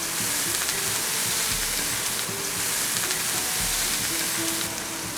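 Oyster mushrooms sauteing gently in butter in a pan, a steady close sizzle and crackle with soft spattering pops running evenly and uninterrupted from start to finish.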